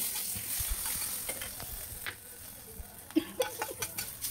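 Soft crackling sizzle of spices and chillies frying in hot oil for a tempering, with scattered pops and a few sharper clinks near the end, no voices.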